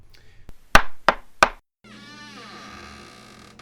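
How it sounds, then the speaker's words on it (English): Three sharp knocks on a door, part of a comic audio pantomime set at a family home, loud and close with short gaps between them, followed by a steady low hum. "Here he is now, knocking at the door of the Trotter house"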